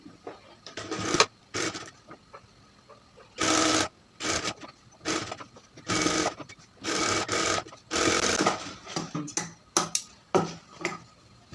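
Sewing machine stitching a ticket pocket on a pair of trousers, running in short repeated bursts with pauses between them, clattering and moderately close, with no talking.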